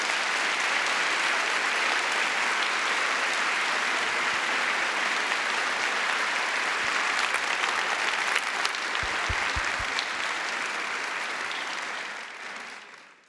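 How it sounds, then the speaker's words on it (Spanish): Sustained audience applause at a live event in a garden venue, a dense steady wash of many hands clapping at full strength for about twelve seconds before trailing off at the end, with no talk over it. "Un aplauso cariñoso para él."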